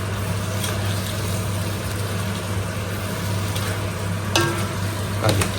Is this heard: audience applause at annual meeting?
no